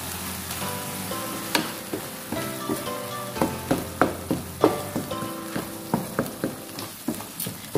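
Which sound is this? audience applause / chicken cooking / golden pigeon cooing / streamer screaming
chicken cooking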